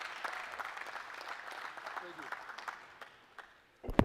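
Audience applause for a city councilman at a Mayor's Night Out meeting, a fairly faint, steady patter of many hands clapping, ending with a louder thump near the close.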